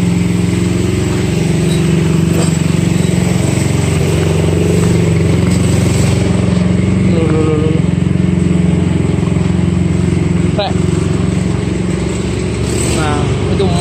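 A Mitsubishi Triton HDX pickup's engine runs at a steady idle close by, a continuous low hum, while people talk over it throughout.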